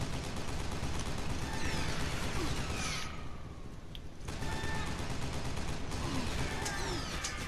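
Rapid video game gunfire runs loud and continuous through most of the clip and drops off briefly near the middle before resuming.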